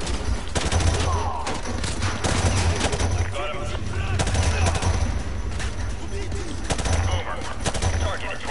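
Heavy gunfire in Call of Duty: Modern Warfare 2, sustained automatic bursts and overlapping shots with low rumbling impacts, loud and busy throughout with muffled game voices underneath.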